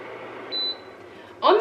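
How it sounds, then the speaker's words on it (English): An air purifier fan stepped up through its low, medium and high speed settings gives a short electronic beep as the speed changes. A louder burst of sound then rises over a quiet steady hum. "you can turn the fan up higher, as I just did"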